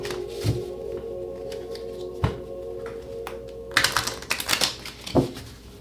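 Tarot cards are shuffled by hand in several quick riffling bursts and scattered sharp clicks and snaps of card stock, close up over a faint steady hum.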